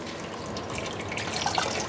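Tap water runs steadily into a kitchen sink while marinating spareribs, a close, continuous hissing splash that grows slightly louder toward the end, with no voices.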